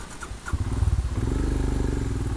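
A motorcycle runs close by on a Diwali ride to Necklace Point near the Bhatghar dam backwaters outside Bhor, Pune. After a brief quiet start the engine revs up into a steady, throbbing pulse and stays loud to the end.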